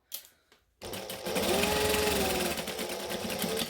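A domestic sewing machine stitching fabric for Christmas shorts starts after a short pause with a few faint clicks, then runs as a continuous close, even mechanical whir with rapid needle chatter.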